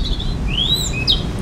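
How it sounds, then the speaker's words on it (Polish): A European robin sings thin, high, sliding whistled phrases over steady outdoor background noise, bright and fairly close, with short pauses between the notes. "Rudzik, śpiewaj!"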